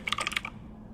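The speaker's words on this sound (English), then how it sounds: "I was typing." Fingers tap out a quick burst of about half a dozen crisp key clicks on a computer keyboard, close up, then stop, leaving a low background hum.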